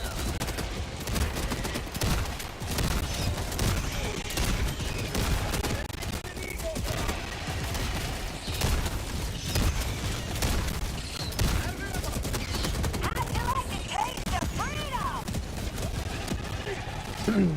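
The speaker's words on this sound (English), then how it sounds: "It's orbital Gatling." An orbital Gatling barrage in the video game Helldivers 2 roars as a long, continuous rapid-fire stream of shots. It carries on steadily with game chatter and voices mixed in.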